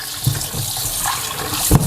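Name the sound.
rinsing chicken feet under cold running water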